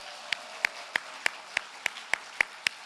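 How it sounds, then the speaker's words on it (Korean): Sparse clapping in a church service, about ten sharp, evenly spaced claps, faint against a quiet room with no talk. "박수로 축복하겠습니다"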